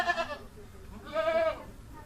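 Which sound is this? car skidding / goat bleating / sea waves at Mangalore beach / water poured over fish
goat bleating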